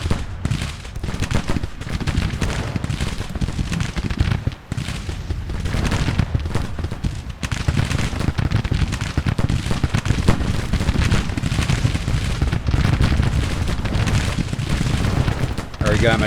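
Civil War battle gunfire in the Grand Tactician strategy game: a dense, continuous roar of massed musketry and booming cannon fire, loud and unbroken with no pauses, like a distant field engagement.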